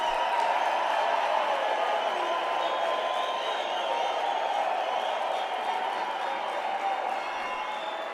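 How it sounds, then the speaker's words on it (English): Sustained applause and crowd noise from a large audience at a UNISA spring graduation ceremony, a steady dense wash of clapping that holds evenly for the whole stretch and tapers only slightly at the end. "big round of applause from yourselves"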